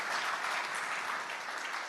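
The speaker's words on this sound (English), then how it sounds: "I think he deserves another round of applause for his comments" Brief, fairly quiet round of applause from an audience at a technical and business meeting in Lagos, a soft even patter of clapping lasting a couple of seconds.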